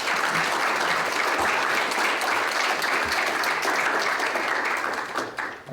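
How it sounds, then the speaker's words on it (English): A luncheon audience gives steady, dense applause for scholarship and business award winners, holding at an even level before tapering off at the very end. "One last round of applause for all the winners,"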